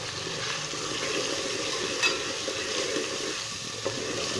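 Cumin, salt, turmeric and red chili powder frying in oil as a tadka for potato pulao, a steady close sizzle with faint stirring scrapes and a couple of small clinks.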